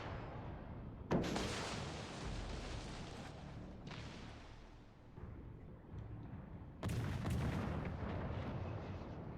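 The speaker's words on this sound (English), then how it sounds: "Torpedo hit, at least for the vampire." Heavy booming explosions and gunfire in a World of Warships Legends naval battle, with a sharp torpedo impact followed by a rumbling blast and a second loud burst later, under continuous battle noise.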